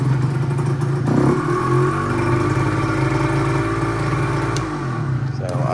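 Yamaha DT 50, a 50cc two-stroke motorcycle, starting up and running close by with a buzzy, rattling idle and a few quick revs; no talking.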